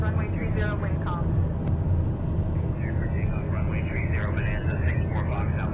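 Single-engine turboprop TBM850 rolling for takeoff on runway 30 in calm wind in Microsoft Flight Simulator 2020: a steady, loud broadband engine and propeller drone runs throughout, with a voice talking over it.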